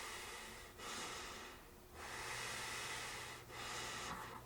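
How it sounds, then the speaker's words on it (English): Someone wearing a Johnny Was face mask breathes in and out through the nose, giving three or four long, close, airy breaths in a slow, even rhythm with short pauses between them. "breathe through my nose"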